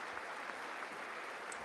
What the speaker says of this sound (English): Clapping at another person.